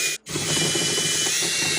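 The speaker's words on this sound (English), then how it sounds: "And so just remove that and drill out the rivets." A power drill bores out the rivets on a 2019–2022 Toyota RAV4 front door panel, whining at a steady high pitch close by, with a brief stop near the start before it runs on continuously.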